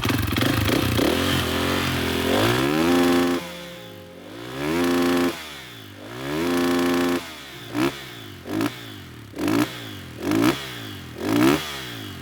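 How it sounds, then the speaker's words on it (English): A Husqvarna FE 450 dirt bike engine running close by, a rough idle rising into several sharp throttle blips and revs, the last few in quick, choppy bursts. "let's get a sound check of the bike."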